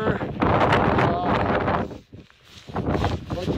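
Cold winter wind buffets the microphone on Mount Bierstadt, a loud steady roar with a brief lull, while a person speaks over it.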